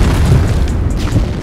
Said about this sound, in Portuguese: Flash bomb! Granada!